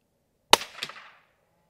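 A single shot from a .22 subsonic rifle fitted with a thermal scope, fired at a target outdoors: one sharp crack followed by a brief echo that fades within half a second.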